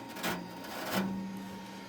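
Steady electronic whir and hum from a Dungeons & Dragons arcade board, with a couple of soft mechanical clicks over a constant tone, close and alone.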